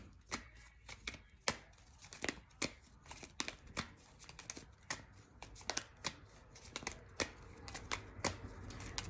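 A deck of tarot cards shuffled close up in a rapid, dense run of papery riffles and flicks, with cards being drawn and slapped down, no talking.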